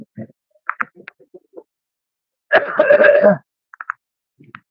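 A single throaty cough from a man during a debate, a short rough burst standing alone between faint scattered clicks and murmurs.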